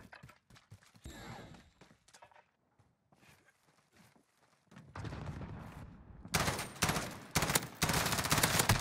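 M16 burst-fire shots in the video game Modern Warfare Search and Destroy, starting as sparse quiet shots and footsteps, then becoming loud dense bursts of gunfire in the second half.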